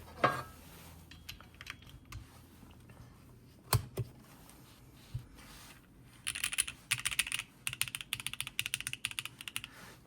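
Typing on a Neo75cu mechanical keyboard, sparse scattered keystrokes at first, then a fast, steady burst of crisp clacks close to the microphone.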